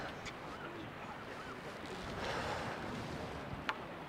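Wind buffets a microphone on a fishing pier on the Bristol Channel, a steady, rough low rumble that swells slightly midway, with a faint tap near the end.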